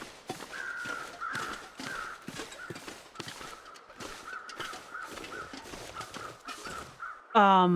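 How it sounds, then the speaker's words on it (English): Crows in the video game The Long Dark caw over and over above a dead body, loud and fairly close, alongside rhythmic clopping hoofbeats; a sudden different sound breaks in at the very end. "Those crows that are hanging out over that dead body are very loud."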